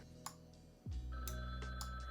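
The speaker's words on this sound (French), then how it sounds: "Cette sonnerie m'agresse." A ringtone in the video game Gartic Phone rings in bright repeated tones over a steady electronic hum, starting abruptly partway through and continuing to the end with no voices.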